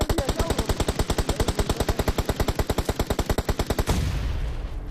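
Rapid automatic gunfire in PUBG Mobile, a long steady burst of evenly spaced loud shots that stops abruptly near the end, leaving a fading echo.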